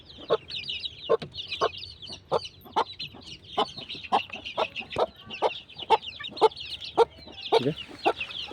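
Steady series of sharp, evenly spaced clucks from a yellow Aseel rooster on a farm, loud and close, with faint peeping chatter of chicks underneath.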